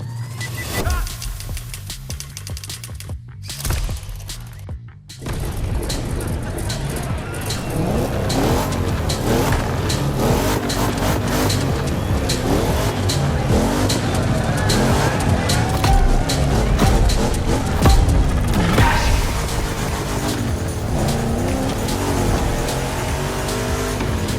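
Race cars in The Crew Motorfest video game drive hard, with a steady loud engine roar, tire squeal and skidding over most of the run after a brief drop near the start, and faint voices mixed in.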